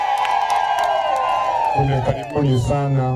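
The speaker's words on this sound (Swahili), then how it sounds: "Tumshangilie Mwenyezi Mungu kwa makofi na vigelegele." Church crowd welcoming a bishop in Mwanza with high wavering ululation that rises and falls, joined by cheering and scattered clapping, loud and close, voices layered over one another.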